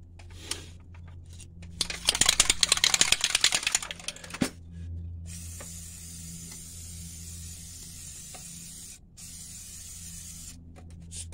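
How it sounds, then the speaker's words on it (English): An aerosol can of Fluid Film rust protection hisses in a sharp spray burst onto a 2010 Dodge Avenger hub face lasting about two seconds, followed by a few short puffs and quiet clicks against a low background hum. "spray the hub face with some fluid film"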